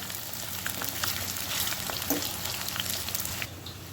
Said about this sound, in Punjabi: ਬਹੁਤ ਸਲੋ ਫਲੇਮ ਦੇ ਉੱਪਰ ਹੀ ਇਹਨਾਂ ਨੂੰ ਅਸੀਂ ਬਰਾਊਨ ਕਰਾਂਗੇ ਇਦਾਂ ਹਲਾਉਂਦੇ ਹੋਏ